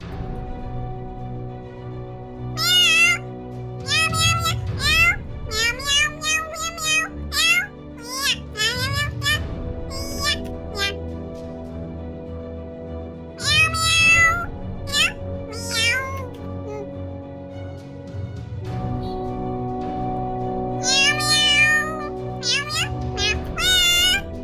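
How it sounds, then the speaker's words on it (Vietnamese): A cat meows repeatedly in a lively, playful household setting, its calls coming in close, loud bursts and clusters, with a child-like voice speaking around them. "nó chỉ là con mèo thôi"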